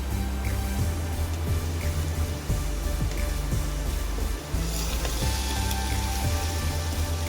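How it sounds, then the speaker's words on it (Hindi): Cauliflower frying with spices and chicken in a pan, a dense crackling sizzle over a low humming drone, broken by a few short gaps and scraping stirs. "गोभी को हम मसाले और चिकन के साथ अच्छी तरीके से भून लेंगे।"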